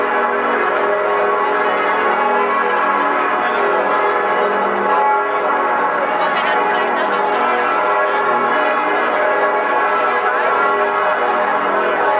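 Church bells peal continuously in Osnabrück old town, a dense and resonant ringing that echoes through the streets and stays loud and steady throughout.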